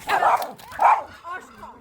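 A dog barks in two loud bursts, then gives a softer whimpering yelp, close by in a household setting.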